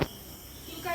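Insects chirp outside at night at a Kerala stay, a faint steady high trill that lasts about a second and begins with a brief knock.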